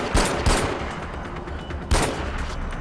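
Pistol fire in the video game Far Cry 4: three sharp, loud shots, two close together near the start and one more a beat later, over a dense, noisy battle background.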